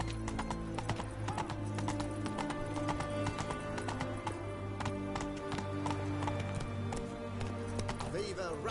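Roach the horse's hooves clip-clop in a steady, close rhythm in The Witcher 3, running beneath constant game music and voices, with a brief whinny-like flourish near the end.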